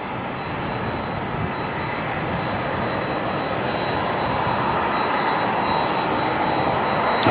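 An all-black ATR turboprop airliner on approach at Auckland Airport produces a steady engine drone with a thin high whine on top, fairly quiet and distant, rising slightly toward the end.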